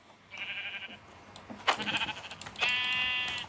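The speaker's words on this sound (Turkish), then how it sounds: "Yuh dört tane koyun iç içe sıkışmış." Sheep in a video game bleat several times in quick succession, overlapping wavering calls that sound close and fairly loud against a quiet background.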